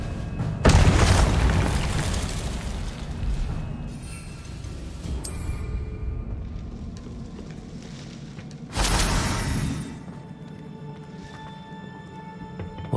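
An Incendio fire spell bursting in the Hogwarts Legacy video game: a loud booming blast, then a quieter stretch, then a second burst partway through, with no talking.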